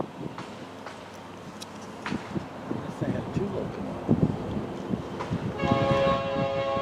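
Amtrak train hauled by locomotives rolls past, rumbling and clattering at moderate distance, growing louder toward the end with a tonal horn-like hum; a person talks briefly over it.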